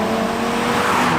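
Steady, loud drone of the 2012 Audi TT RS five-cylinder engine with six-speed manual, an even sustained hum heard from inside the car with no voices.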